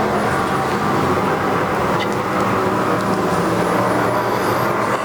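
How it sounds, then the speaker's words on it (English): IMCA Sport Mod race cars roaring together at the start of a heat race on an Arizona speedway dirt track, a dense continuous loud engine drone filling the whole stretch without break. "get ready for the green flag here in heat race number 3 for the Santan Ford IMCA Sport Mods"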